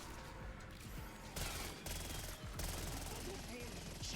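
Rapid bursts from a PPSH submachine gun in Black Ops 6 Zombies, fired against a zombie boss: quick rattling volleys start and stop in short strings, fairly close, amid game noise.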